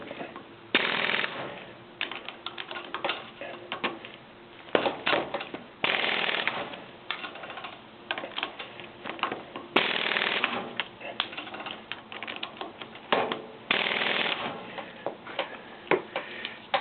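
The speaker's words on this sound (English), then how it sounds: "then I'm going to torque it with my torque wrench" A torque wrench ratchets while tightening the axle nut on a Toro 522xi hydrostatic tractor, with quick bursts of clicking repeated in short sets and separated by brief pauses.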